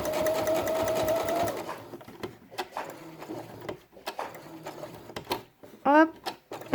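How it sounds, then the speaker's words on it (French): Sewing machine stitching a felt quiet-book squirrel page, a steady mechanical run at first, then short bursts between pauses, with someone talking over and between them. "Hop, on vient coudre sur le trait."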